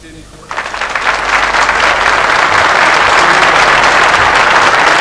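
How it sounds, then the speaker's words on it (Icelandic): A large crowd at the national celebration at Þingvellir, Iceland, in 1994 breaks into loud, sustained applause that swells within the first second and holds steady, with some voices faintly underneath. "Þjóðfundurinn á Þingvöllum í dag fagnaði innilega."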